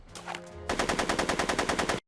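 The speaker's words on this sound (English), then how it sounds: "Marty makes his way around a barrage of gunfire as he rolls some booze over to the speakeasy" Rapid automatic gunfire in a Back to the Future video game, a fast, loud, evenly spaced burst of about a dozen shots that cuts off abruptly, with a short muffled sound just before.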